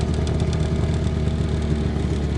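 An outboard boat motor runs steadily on a cold taiga river at first ice, with near water and fuel chilling it; a loud, even low rumble and throb with no talking.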